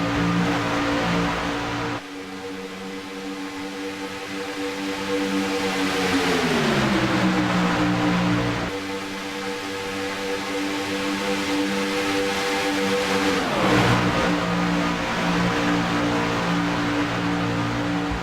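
Race cars roar around Talladega in a pack, their engines droning loud and continuous with pitch sweeps as the field shifts and passes, no talk over the sustained engine noise.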